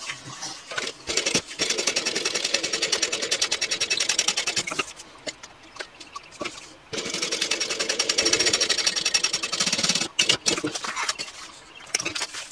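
A sewing machine stitches across handbag card slots in steady rapid bursts, loud and close, pausing briefly between runs before starting up again.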